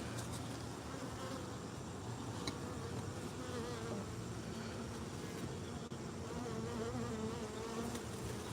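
Dense, steady buzzing of many wild bees around a honey hive fills the air, a continuous hum with individual insects drifting close and away, faint traffic far behind.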